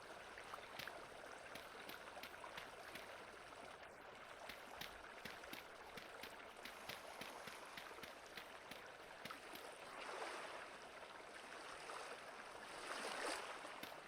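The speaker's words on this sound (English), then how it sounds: "Because I don't like the sound of running water." A steady, continuous rush of running stream water in the farming game Farming Simulator, quiet and even, with faint intermittent ticking over it and no talking.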